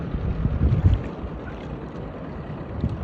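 A rented boat out on open water near Semey, with low rumbling wash and wind buffeting close to the microphone, steady throughout and no talking.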